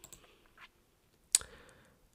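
A single sharp computer mouse click stands out after a couple of faint soft taps, close and crisp against an otherwise quiet desk.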